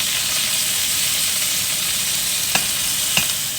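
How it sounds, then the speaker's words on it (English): Thinly sliced onion frying and browning in a pan, a steady close sizzle and hiss throughout with a couple of brief clinks near the end. "to our pan we're going to add 1 onion, and we have thinly sliced that"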